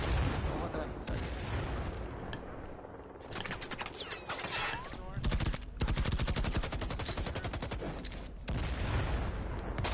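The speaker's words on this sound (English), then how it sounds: "Grenades flying in from both directions." Explosions and gunfire fill a video game firefight as grenades fly in from both directions, with dense, loud overlapping bursts and crackling shots throughout.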